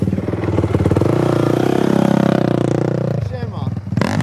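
A 125 cc motorcycle engine chugs and revs steadily up close, its motor note loud and continuous before cutting out near the end, with people talking over it.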